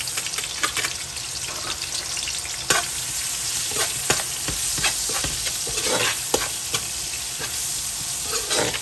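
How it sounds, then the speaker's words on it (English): Onion and biryani spice mix frying in hot oil for lamb biryani, a steady close sizzle with the scrape and clatter of stirring breaking through at intervals. "I already have some oil there. I'm gonna go in with some onion."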